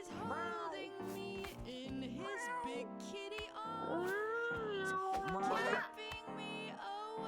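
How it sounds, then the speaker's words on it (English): Several cartoonish cat meows from the video game Mewgenics, a string of sliding, chirpy cries one after another, moderately loud and close. "There's a lot of cats in the attic."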